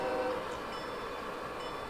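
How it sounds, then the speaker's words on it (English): A model train runs along a layout, climbing from staging up through a helix on a mainline near a Westvaco trona plant, giving a steady, faint mechanical rumble and hum with a soft high tone. "So this train is coming from the Helix, from the staging up through the Helix."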